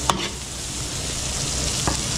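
Garlic and onion sizzle steadily in a pan, a brief spoon clink at the start and another scrape near the end over the continuous frying hiss.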